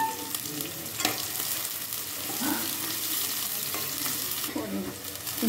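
Onions fry in a pan for chicken curry, with a continuous crackling sizzle and scattered scraping stirs close by.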